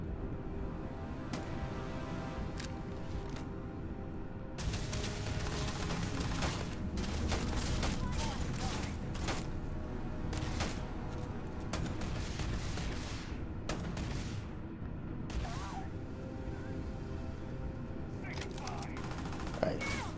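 Repeated close-range gunfire from a weapon in the space game Starfield, sharp bursts scattered across a dense, continuous in-game soundscape with steady background noise throughout.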